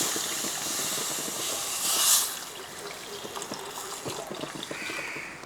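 Water is poured into a hot pan of sardine curry, setting off a loud steady hiss and sizzle that swells briefly, then settles into bubbling.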